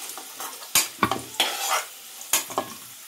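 Potato pieces fry with salt in a pan, sizzling quietly under a few sharp, loud clacks and scrapes of a spatula turning them.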